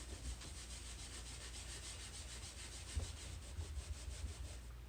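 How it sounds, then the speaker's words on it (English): A baby wipe rubs over a Brother ScanNCut cutting mat, giving a soft, faint, steady scrubbing swish with a few light bumps near the end. "I'm going to use one final wipe to go over the whole mat"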